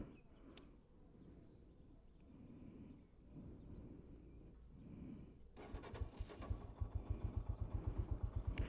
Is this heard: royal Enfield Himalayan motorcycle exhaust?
yes